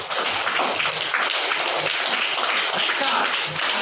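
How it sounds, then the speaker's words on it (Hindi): Children clap their hands together in a dense, even patter that runs steadily for a few seconds. "तालियां बजाओ"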